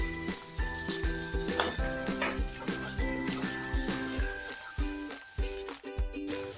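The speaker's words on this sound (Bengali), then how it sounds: "ফোড়নে দিয়ে তাড়াতাড়ি আমি পেঁয়াজটাও ঢেলে দেবো, যাতে ফোড়নে যে মশলাগুলো দিয়েছি ওগুলো পুড়ে না যায়" Sliced onions go into hot oil already tempered with fennel and fenugreek and sizzle loudly close by, a continuous crackling hiss with a few stirring knocks and a brief sharp burst near the end.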